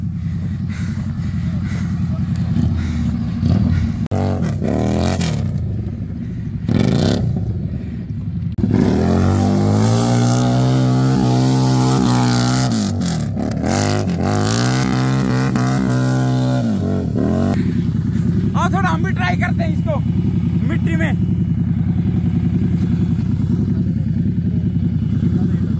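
A Harley-Davidson 750 motorcycle stuck in deep mud is revved hard in repeated long bursts, its engine note rising and falling. People shout and talk over it throughout, and wheels spin and mud clatters.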